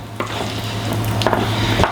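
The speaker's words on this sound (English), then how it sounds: "you can hear them sizzling" Potatoes sizzle steadily in a very hot pan, with a few soft scraping knocks from a spatula stirring them.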